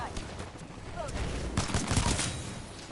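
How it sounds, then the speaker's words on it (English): Pistol fire in the shooter game Titanfall 2: a few gunshot bursts from the game mix over a dense, constant background of game noise, moderately loud and close. "I think it took about 2 shots on that low health target"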